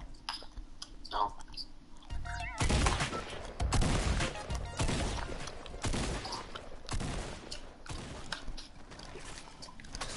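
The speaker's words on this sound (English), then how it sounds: "This new shotgun is so terrible." Drum shotgun blasts from a PS4 first-person shooter, a rapid string of loud, broadband shots clustered through the middle, over a busy game soundscape with faint talk.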